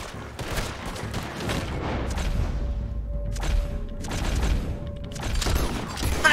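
Gunfire in Red Dead Redemption 2 during a tense shootout, repeated sharp shots and bursts over a rumbling, busy background, loud and close with brief quieter gaps between volleys.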